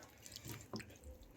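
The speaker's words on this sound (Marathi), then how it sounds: "आता आपण याच्यामध्ये परत पाणी घालूयात." Water is poured onto freshly churned butter to wash it for homemade ghee, giving a brief, faint splash and trickle with a couple of soft drips, quiet and close.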